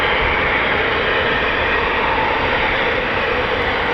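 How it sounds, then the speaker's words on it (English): Eurofighter Typhoon FGR4 jet taxiing out at RAF Coningsby, a loud steady engine roar and whine that stays constant and near throughout. "So Typhoon taxiing out now."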